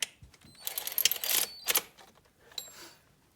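Supercharger bolts on a Camaro ZL1 are snugged down by hand, giving faint bursts of quick ratcheting clicks close by with short pauses between them.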